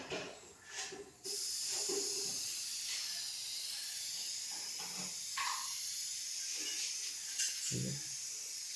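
A pencil spray gun fed by a compressor sprays paint, starting after a brief pause into a steady, loud, close airy hiss that runs unbroken, with a few faint knocks beneath.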